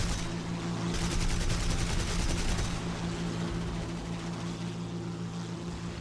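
A Bf 110 C-4 fires its guns in War Thunder realistic battles: a rapid burst of machine-gun fire rattles over the drone of the aircraft engine, then the engine hum continues alone.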